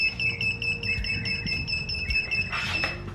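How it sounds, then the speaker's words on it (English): Force1 racing drone beeping just after being plugged in, a series of sharp, high electronic beeps repeating rapidly, with a busier burst of tones near the end, fairly close and clear. "It's beeping like crazy."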